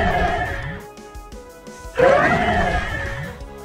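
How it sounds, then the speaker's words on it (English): A homemade creature cry for an invented Pokemon-style monster, edited deeper and stretched out with a fade, sounding like a rough, horse-like whinnying call played twice in a row, loud and close. "I think we got the cry that I would like for this Pokemon."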